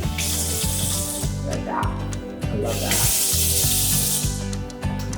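Water runs from a touch-activated faucet in a renovated heritage house, a hissing stream that cuts off and restarts as the tap is touched, while someone talks over it.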